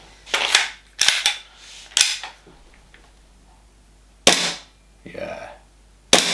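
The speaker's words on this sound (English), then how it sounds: "Let's see what the firing's like." A WE G18 Gen 4 gas airsoft pistol fires sharp, snappy close-range pops, first a quick cluster of about four shots, then single shots after longer gaps, with a brief mechanical rattle between them.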